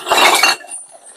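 Glass bottles clink together as they are gathered into a sack, a short bright burst of chinks close by, fading to quiet after half a second.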